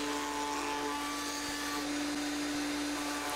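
A steady high-pitched whine of a power router rounding over walnut edges runs continuously, with a constant tonal hum and faint airy noise, loud and close.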